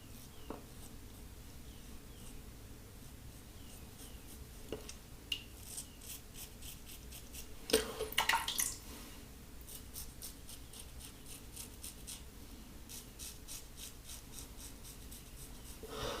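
A custom boar bristle shaving brush lightly buffing lather on a face with no real pressure, making faint, close, scratchy strokes in a quick rhythmic series, with one slightly louder burst midway.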